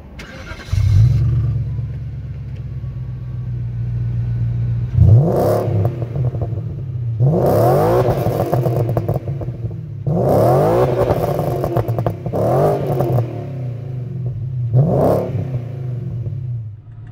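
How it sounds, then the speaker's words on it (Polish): A 2000 Audi S6 C5 with a slightly modified exhaust idles steadily nearby, then gives several loud, sharp revs that rise and fall in a repeating pattern, with no talking. "Posłuchajcie, jak ten samochód pięknie chodzi"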